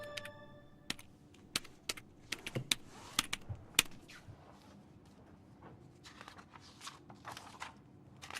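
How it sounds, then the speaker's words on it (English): A librarian types hard on a computer keyboard in the game Broken Sword 2.5: rapid, irregular clacking keystrokes in bursts, close and moderately loud, with no speech. "The librarian is torturing her keyboard."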